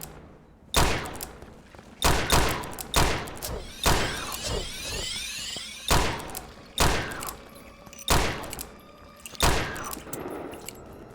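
In the top-down twin-stick shooter game From Space, loud gunshots ring out about every one to two seconds, each with a sharp attack and a short echoing tail. The shots stand alone with no voices.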